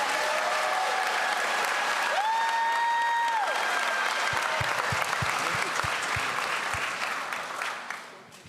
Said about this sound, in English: Let's give our middle schoolers a round of applause.